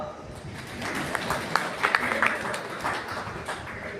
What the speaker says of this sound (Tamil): கைத்தட்டுங்கப்பா